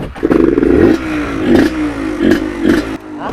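A Suzuki TS 125 motorcycle revs hard at full throttle, loud and close, in repeated rising bursts with brief dips between them.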